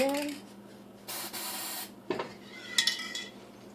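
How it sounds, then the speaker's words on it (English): Spraying liquid onto a glass vase comes through as a couple of bursts of soft hiss, with brief clinks of glass between them. It is near and fairly quiet, in a small indoor space. "Spray it again."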